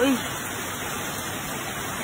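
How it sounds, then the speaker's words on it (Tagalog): Heavy rain pours down in a steady, dense hiss that continues unbroken throughout the clip. "lakas ang ulan ah"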